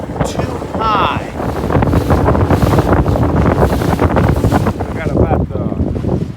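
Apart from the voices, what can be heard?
high wind on Kentucky Lake from a boat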